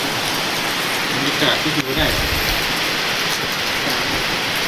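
Steady, loud rain hisses down without a break in Savannakhet, while a person talks over the downpour.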